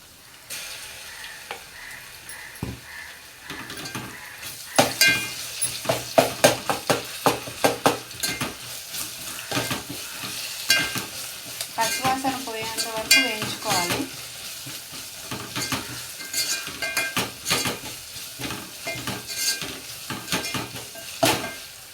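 Ginger garlic paste fries with onions in a pan, with steady sizzling and repeated scraping and clinking of a spoon against the metal as the mixture is stirred, loud and close with no talking.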